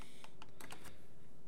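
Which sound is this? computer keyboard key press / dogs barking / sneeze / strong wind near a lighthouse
computer keyboard key press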